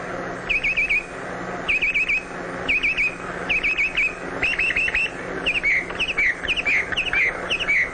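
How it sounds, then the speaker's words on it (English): A male red-winged blackbird sings at a cattail pond in spring, repeating bright chirping phrases in regular bursts, close and clear over a soft background hum. "The male redwing selects the nesting area and sings sweetly to persuade a female redwing"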